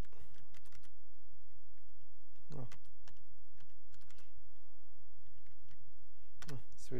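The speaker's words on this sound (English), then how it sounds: "Swedish keyboard." Clicking keystrokes on a Swedish computer keyboard arrive in irregular bursts and pauses, close and crisp, with a brief low voice mixed in.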